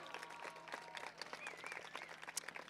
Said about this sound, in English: please clap as loudly as you can so they can hear you